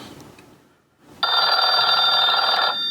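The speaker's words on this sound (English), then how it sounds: "you guys will be able to hear it ring from the home phone" A home landline phone rings loudly and close by after a short quiet moment, one sustained electronic ring tone lasting well over a second.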